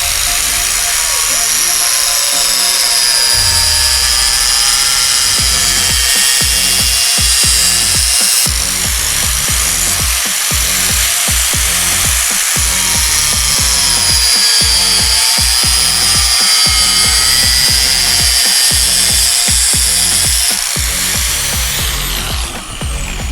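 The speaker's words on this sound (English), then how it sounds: "So I'm gonna use a grinder and just trim it up real fast." An angle grinder trimming old, partly melted rubber windshield weather stripping on a classic car in a garage, a loud continuous high whine with rapid rhythmic cutting bursts, close and sustained.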